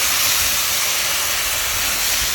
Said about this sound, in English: So let's hear that sizzle.